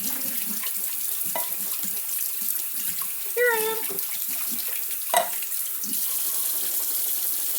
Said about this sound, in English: Nice thing about rinsing is you can rinse your can at the same time.